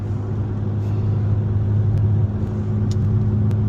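A BMW M3 running on E50 fuel pulls hard, its steady low engine drone and road rumble holding loud and close throughout, with no voices over it.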